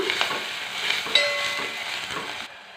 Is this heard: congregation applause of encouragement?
no